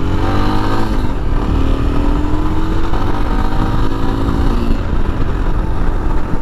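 A Royal Enfield Himalayan 24bhp adventure motorcycle rides and accelerates on the road, its engine note climbing steadily under rushing wind noise, loud and close.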